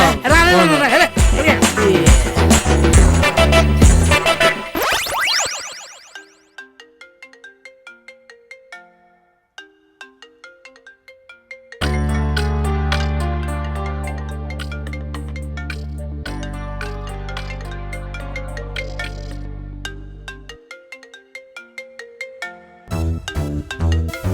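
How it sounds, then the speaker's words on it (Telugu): A mobile phone ringtone plays a loud, repeating electronic melody that runs on through quiet gaps and a bass-heavy section, with no talking over it. "ఫోన్ వచ్చిందిరా"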